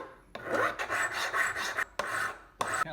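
A hand file works the facets of an octagonal adjuster, making close, harsh rasping strokes in short bursts with brief pauses between them.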